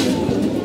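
A domestic pigeon gives a single brief, soft coo close by.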